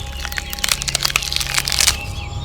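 A large green tree branch snaps and falls, wood crackling in a rapid, irregular burst of sharp cracks, loud and close, over a low steady hum.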